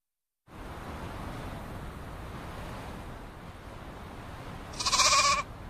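A sheep bleats once near the end, a short loud call over a steady rushing wash of waves or wind that fills the whole clip.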